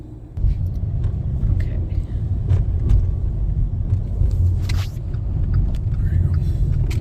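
A car drives along a highway with a metal road surface, making a constant low rumbling road and engine drone that stays loud throughout while a voice speaks briefly.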